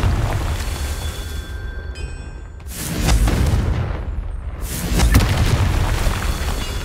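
A Confringo blasting spell from Hogwarts Legacy goes off as two loud, deep booming explosions a couple of seconds apart. Each has a long rumbling tail over a busy background.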